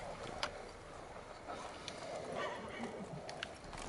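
A horse gallops in The Witcher 3, with rhythmic clip-clop hoofbeats and occasional snorts at moderate level over a soft ambient bed, a voice talking faintly in the background.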